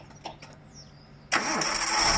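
A 1996 Nissan Skyline R33 petrol engine, cleaned out after diesel was put in, cranks with a brief whir and fires up, catching into a loud steady idle close by after some faint clicks.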